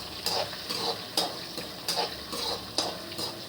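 Dried and green chillies fry in hot oil with a soft, steady crackle, and a spatula scrapes the pan in regular strokes about every half second.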